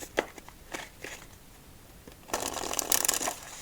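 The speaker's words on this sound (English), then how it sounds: "let's finish up with 2 more shuffles" Playing cards are shuffled for a solitaire game in a quiet ASMR setting: a few soft taps and handling sounds, then a close, crisp riffle burst lasting about a second, with no talking.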